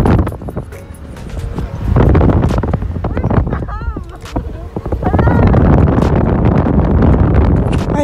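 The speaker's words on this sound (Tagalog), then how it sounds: "Ang lakas ng hangin" Strong wind buffets the microphone while driving off the highway through a desert, a loud rushing roar that surges and dips, with vehicle rumble underneath and brief voices in the middle.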